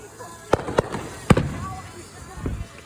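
Fourth of July fireworks are being shot off nearby, giving several sharp, loud bangs in quick succession followed by softer crackling, with people's voices faintly in the background.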